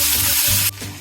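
Ginger garlic paste with tomatoes sizzling loudly in hot oil in a pan, a dense steady hiss that abruptly drops in level partway through, then continues softer.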